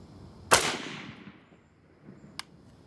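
A single sharp rifle shot from a CMP Special M1 Garand fired at a 100-yard outdoor range cracks loud and near, its echo trailing away over a second, followed by a faint click a moment later.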